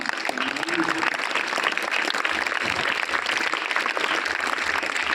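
A crowd claps together in steady, dense applause that fills the whole stretch, loud and continuous without pause.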